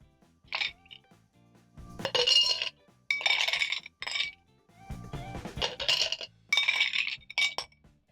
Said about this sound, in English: Add in ice cubes.